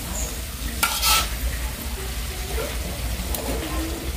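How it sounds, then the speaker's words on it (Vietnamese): Corn stir-fried with sausage and onions in a hot pan, giving a steady close sizzle with scraping stirs throughout and a brief louder clatter near the start. "Mình để hành vô xào xào chút xíu"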